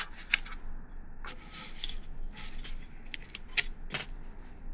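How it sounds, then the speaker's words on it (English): Metal ruler handled while cutting watercolor greeting cards, giving a few sharp metallic clinks and jangles over soft rustling, close by and fairly quiet. "Let me break out my metal ruler."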